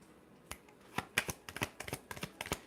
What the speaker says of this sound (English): I'm gonna shuffle the deck one more time, see if anything else wants to come out